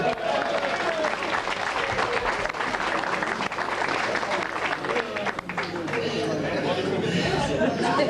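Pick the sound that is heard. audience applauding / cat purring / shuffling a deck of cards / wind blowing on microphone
audience applauding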